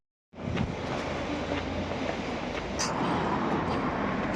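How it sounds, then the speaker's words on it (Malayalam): A Dubai metro train runs with a steady, close rolling rumble that starts abruptly after a brief silence and holds at an even level, with faint rail clicks and no voices. "നമ്മൾ മെട്രോയിലാണ് പോകുന്നത്."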